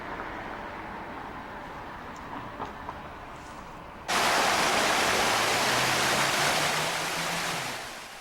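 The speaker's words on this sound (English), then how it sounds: "Ooh, got some waterfall action." A waterfall in an urban Detroit setting suddenly comes up as a broad, loud, steady rushing roar after a quieter stretch of ambient outdoor noise, with no talk.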